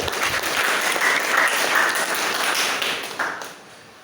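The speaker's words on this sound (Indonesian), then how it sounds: "sekali lagi beri tepuk tangan untuk yang tadi sudah berpartisipasi" Students applaud in a classroom lecture session, a dense steady burst of many hands clapping that fades near the end.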